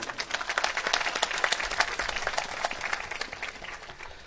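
A conference audience claps steadily for several seconds, a dense run of many hands at moderate loudness with sharp individual claps standing out, and no talking over it.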